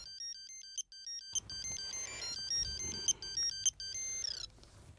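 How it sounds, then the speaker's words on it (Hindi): A phone ringtone plays as a repeating electronic beeping melody in short regular pulses, close and clear against a quiet background, continuing for several seconds. "1 मिनट, फोन बज रहा है"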